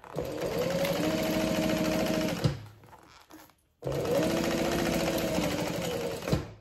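A sewing machine stitching a vinyl card slot with a quarter-inch stitch length: two long runs of steady, rapid mechanical whirring and clatter, close and loud, with a short near-silent pause between them.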